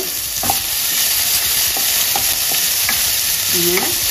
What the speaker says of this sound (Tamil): இதுலேயே இந்த சொயின்னு சவுண்டு வருது பார்த்தீங்களா, அந்த வாட்டர் லெவல் இருக்கிறதுனால சத்தம் வருது